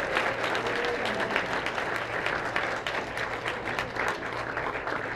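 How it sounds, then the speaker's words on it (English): An audience at a youth awards dinner claps for an honoured guest, with a full, continuous round of applause that holds steady for several seconds under a faint low hum. "So one big round of applause for that lady back there"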